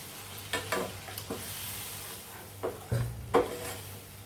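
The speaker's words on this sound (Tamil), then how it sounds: "இப்போ கொஞ்சம் தண்ணி ஊற்றிக்குவோம்." Water poured into a pan of tomato masala, with a few bursts of sizzling and stirring scrapes spread over several seconds; low hum in the background.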